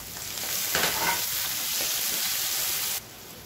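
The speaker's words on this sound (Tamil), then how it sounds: "இந்த ஸ்டேஜில் ஒரு கைப்பிடி அளவுக்கு பொடியாக நறுக்கின வெங்காயம் சேர்த்துக்கலாம்." Finely chopped onions sauté in hot oil in a pan for a carrot and potato stir-fry, a steady close sizzle with brief stirring scrapes throughout.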